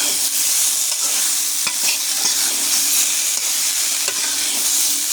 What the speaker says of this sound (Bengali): আমি আবারও ভালো করে নেড়ে দেবো।